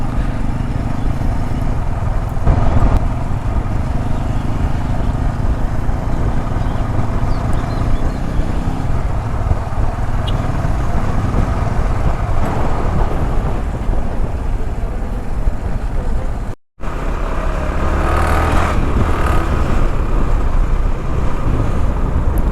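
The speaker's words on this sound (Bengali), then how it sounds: "আমরা চারটা বাইক নিয়ে যাচ্ছি" Motorcycles ride along a road, a continuous loud engine drone mixed with heavy wind rush over the microphone, broken briefly by a short dropout, with no one talking.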